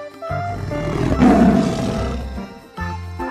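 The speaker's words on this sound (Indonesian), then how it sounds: "ternyata ini harimau" A tiger roars loudly and close, a rough growling call lasting over two seconds, then a fresh roar begins just after.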